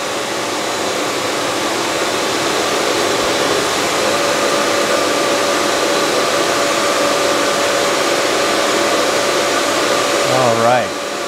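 A vacuum former's vacuum pump runs with a steady, loud, even whir and a constant hum, then shifts pitch briefly near the end.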